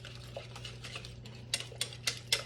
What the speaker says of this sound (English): whisking it however much I want